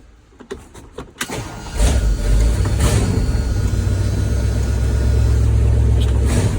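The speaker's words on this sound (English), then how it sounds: "I'll probably not try to talk while the truck's running because it is kind of loud" A 1977 Ford F-150 truck engine turns over with a few quick cranks, fires up and settles into a loud, steady rumbling run close by, with no talking.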